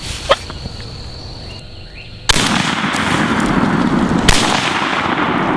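Two loud, sharp gunshots during a turkey hunt outdoors, the second one a couple of seconds after the first, each leaving a broad rumbling tail over steady background noise.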